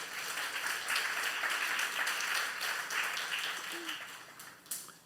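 A church congregation claps during a sermon, a dense, sustained burst of applause that fills the room and tapers off near the end.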